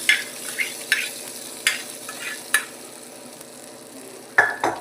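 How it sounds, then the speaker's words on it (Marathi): Cooked dal is tipped into a pan of sizzling tempered spices and stirred in, with a steady close sizzle broken by repeated short scraping spoon strokes and clinks against the pan. "मिक्स केल्यानंतर आपण जी डाळ शिजवली होती ना, ती डाळ त्याच्यामध्ये टाकायची आहे अशी."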